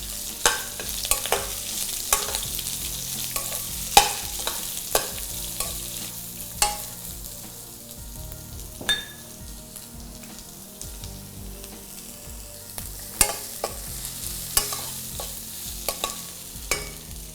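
Onions with dried red chillies and curry leaves fry in a pan for a Bombay chutney, giving a steady close sizzle broken by repeated sharp spoon scrapes and taps against the pan.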